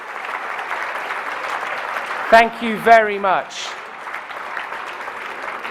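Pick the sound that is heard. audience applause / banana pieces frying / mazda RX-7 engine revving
audience applause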